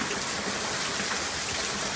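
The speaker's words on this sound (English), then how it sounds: "It's raining so hard it's actually blowing over my gutters, filling my gutters over." Heavy rain from a Hurricane Irma rain band pours down in a dense, steady roar, hard enough to overflow the gutters, with no pauses and no voices.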